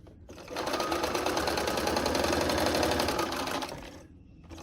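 A home sewing machine runs a steady, fast, even stitching whir along a quilt seam on a Double Wedding Ring quilt, starting up, holding close and loud for about three seconds, then stopping.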